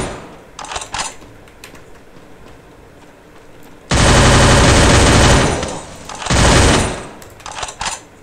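Gunfire in the stealth action game The Chameleon: scattered single shots, then a long, loud sustained burst of automatic fire, a shorter second burst and a few closing shots, with no talk over it.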